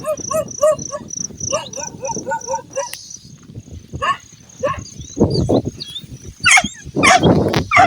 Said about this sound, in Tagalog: Sinalubong na po kami ng ano ng mga aso ko si Yutura at si Bantay